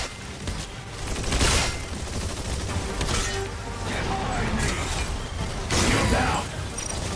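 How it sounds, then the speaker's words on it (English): Enemy gunfire in the video game Exoprimal rattles in dense bursts under continuous game noise and mechanical clatter, fairly loud and close, with talk from players mixed in. "Oh, I see, they're actually shooting us."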